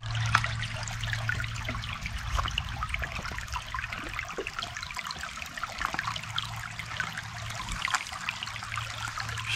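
A Katahdin water filter runs a steady trickle of water into a bottle at a backpacking campsite in the Quebec Run Wild Area. The flow is continuous and moderately close throughout, with no talking over it.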